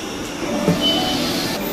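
A train rolls slowly through a small rural station in Japan, a steady mid-level rumble of wheels on rails with faint rattles, heard briefly and alone.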